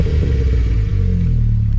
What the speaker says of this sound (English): You got to hear this exhaust note before we move,